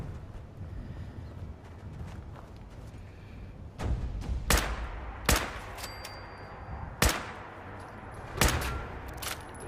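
Upgraded gun firing in Fallout 4: five or six separate sharp, loud shots spaced a second or so apart over a low ambient rumble, with no talking.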